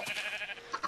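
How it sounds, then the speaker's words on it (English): A sheep baaing in Minecraft: one short, wavering bleat, fairly close and clear, alone with no talking. "try to ignore the sheep as much as we can. Their loud baaing."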